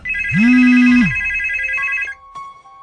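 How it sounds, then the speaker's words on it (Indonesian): A mobile phone rings with bright, steady electronic tones, loud and close. A short swooping tone opens it, and the ring cuts off before a few fainter beeps. No one speaks. "berganti dering ponsel"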